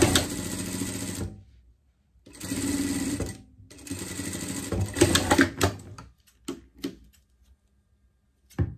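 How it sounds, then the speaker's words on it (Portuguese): Sewing machine stitching a safety seam on a pet cap, loud close whirring runs of rapid stitching in three bursts separated by pauses, then a few short clicks and taps. "Aqui a gente vai passar uma costura de segurança"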